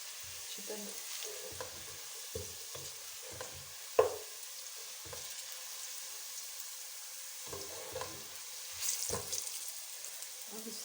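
Onions frying in a pan for veg pulao give a faint, steady sizzle throughout, broken by soft scraping stirs and a sharp clink of a utensil midway, with no talk.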